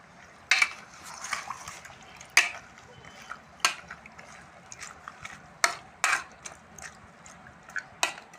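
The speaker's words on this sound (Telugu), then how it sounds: "ఒకసారి మొత్తాన్ని కలుపుదాం" A spoon stirs dal with chili powder and turmeric in a pot, making scattered clinks and scrapes against the metal at irregular intervals. Each sound is close and crisp over a quiet background.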